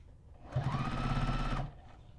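A sewing machine runs in one steady burst of rapid stitching for about a second, sewing quilt fabric folded on a corner right to the edge, with quiet before and after.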